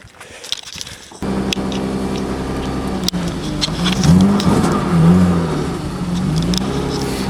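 A BMW E36 with its engine still cold starts up and revs close by, the engine note swelling and easing over several seconds after a few sharp clicks, with almost no talk.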